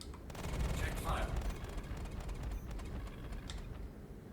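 Ballistic cannons on a Meteor ship in a space combat game fire in a dense, loud, continuous burst of booming gunfire with mechanical clatter, lasting the whole stretch without a clear gap between shots.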